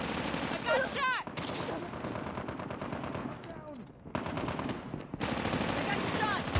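Sustained automatic gunfire and scattered shots from Call of Duty Mobile on the Highrise map, with dense bursts, brief pauses and whistling ricochets throughout, fairly close, with some speech mixed in.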